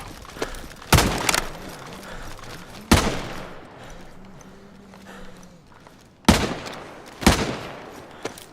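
Loud gunshots fired in the DayZ video game on the Chernarus map, a few sharp cracks spaced apart with faint tonal game sounds between them and no talk.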